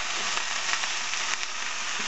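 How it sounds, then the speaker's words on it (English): Minced meat for spaghetti bolognese sizzles in a hot pan, a steady, close, dense hiss that holds evenly throughout with no voices over it. "you can tell it's about good to cook when it sizzles like that on contact"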